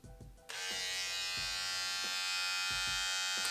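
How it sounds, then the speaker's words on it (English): Brio Axis hair clippers with a T-blade switching on, a click followed by a loud, steady high buzzing motor hum close by, with faint repeated handling taps underneath. "your clippers come on like that, running out the gate"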